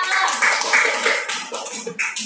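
Classmates in a primary-school classroom clap for a friend, a short burst of close, uneven hand claps with some quieter tapping.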